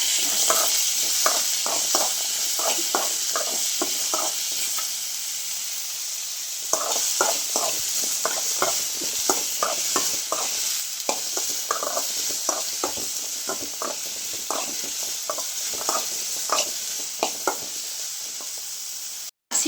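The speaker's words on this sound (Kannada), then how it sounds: "ಎಣ್ಣೆಯಲ್ಲಿ ಫ್ರೈ ಮಾಡಬೇಕು" Ingredients for black-eyed pea sambar fry in oil with a continuous hiss, and a spoon scrapes and stirs the pan in rapid, regular strokes throughout, close by, with a short pause partway.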